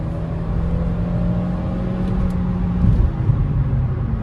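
Hyundai i20 1.4 MPI accelerating hard from a standstill with the pedal floored and kickdown engaged; a steady engine drone and whir from inside the cabin, rising slightly in the last seconds, with no one talking.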